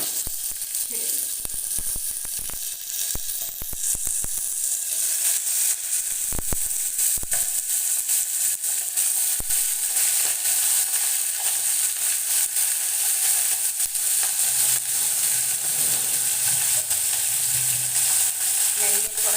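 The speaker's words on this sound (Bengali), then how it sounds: "ম্যারিনেট করা চিকেনটাকে ছেড়ে দিলাম। এটাকে একটু ভেজে নেব" Marinated chicken for a curry frying in a pan, giving a loud, dense, continuous sizzle that holds steady throughout, with a few faint clicks and scrapes near the start and no voices.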